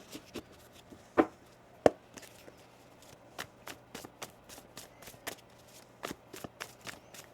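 A tarot deck being shuffled by hand: a string of quick riffling card bursts and soft slaps, with two sharper snaps early on, close up and without speech.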